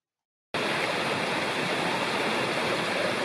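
Loud, steady rush of flowing water at a large crossing of Kirkland Creek in the Upper Bald River Wilderness starts abruptly after a moment of silence and continues unbroken, close by.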